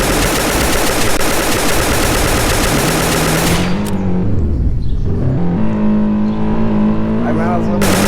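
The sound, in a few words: gunfire in a shooting video game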